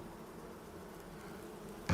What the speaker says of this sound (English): She watches as Candyman, covered in bees, floats towards her above the ground.